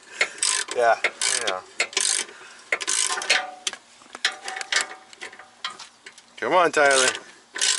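A ratchet wrench clicking rapidly on a suspension bolt of a 2011 Audi Avant during an air suspension install, loud close bursts of ratcheting in repeated strokes, with people talking briefly over it.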